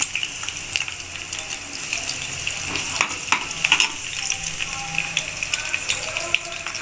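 Fenugreek seeds and garlic cloves frying in hot oil make a steady, fairly loud crackling sizzle with dense rapid pops, like light rain, continuing throughout.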